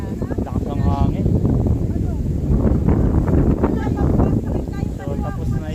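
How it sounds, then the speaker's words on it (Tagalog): Strong wind buffets the microphone on a trip in Palawan, a constant roaring gust under people talking throughout. "Mahangin pa. Lakas ng hangin."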